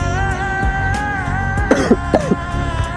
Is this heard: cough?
yes